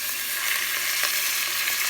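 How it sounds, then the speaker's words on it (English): Loud, constant crackling sizzle of chicken pieces frying in a hot pan, heard up close with no voices. "that's what you're looking for, that nice sizzle sound"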